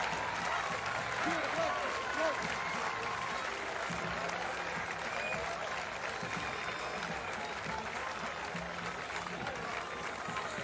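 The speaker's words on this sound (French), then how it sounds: "Les applaudissements de la victoire de la Toulouse." Sustained applause from a large crowd at a FIBA 3x3 basketball quarter-final in Bordeaux, steady and dense throughout, with cheering voices mixed in.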